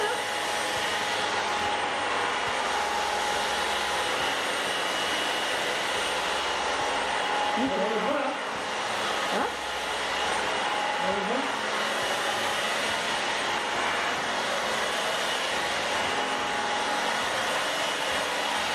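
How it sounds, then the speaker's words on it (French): A household vacuum cleaner runs loud and steady for the whole stretch as the living room and kitchen are cleaned, its broadband roar holding constant with a couple of brief dips and a few faint tonal blips midway. "L'aspirateur, il est là, regarde."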